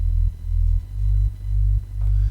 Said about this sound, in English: a sub down here, which is just a pretty clean sub, a little bit of distortion on there.